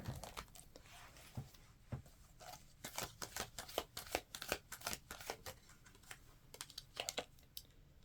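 Cards are drawn and shuffled from a tarot deck, giving a series of close, crisp flicks and snaps in irregular bursts, with soft sliding sounds between them and no talking.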